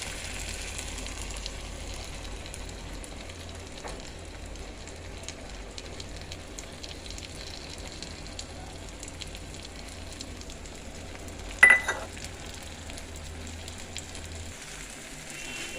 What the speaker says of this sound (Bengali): আমার এবারে ভাজা ভাজা হয়ে গেছে ভেন্ডিটা